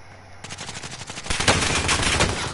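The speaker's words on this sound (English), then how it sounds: "someone's shooting at me, bro" Rapid automatic gunfire in a video game rattles off in a fast continuous burst, starting quietly and growing louder and denser toward the end.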